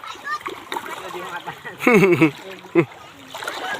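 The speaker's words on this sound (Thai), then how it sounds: "ว่ายน้ำเลยลูกว่ายน้ำเลยว่ายน้ำเลย" Water splashes in a few short bursts as a child swims and plays in the sea at Don Mong beach, with a voice and outdoor background noise.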